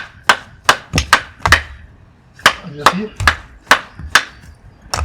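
A hammer strikes an ordinary brick again and again, roughly a dozen sharp, loud, close knocks in an uneven rhythm with short pauses, and someone speaks briefly between the blows.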